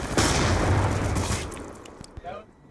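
A concussion grenade detonates in Call of Duty: Black Ops 2 multiplayer, a loud close burst with a rumbling boom that slowly decays, with scattered gunfire and a voice over it.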